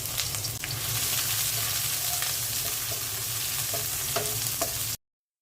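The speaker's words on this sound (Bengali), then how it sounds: "পেঁয়াজটা হালকা ভেজে নিলাম।" Onions fry lightly in a pan with a steady, close sizzle and occasional stirring scrapes, continuous for about five seconds before cutting to silence.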